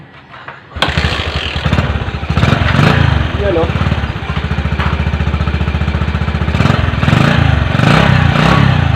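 A Bajaj CT 100 motorcycle engine, freshly overhauled, abruptly kicks to life and settles into a loud, rapid idle with rhythmic put-put throbbing and a few revs; someone speaks briefly.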